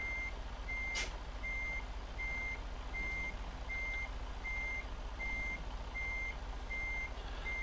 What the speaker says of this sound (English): What am I beeping at?